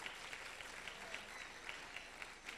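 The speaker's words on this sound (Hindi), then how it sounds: "आशीष अग्रवाल के लिए भी तालियां हो जानी चाहिए।" An audience at an awards ceremony in Bhiwani claps for a video maker, a brief burst of even, moderately distant applause from a crowd with no talk over it.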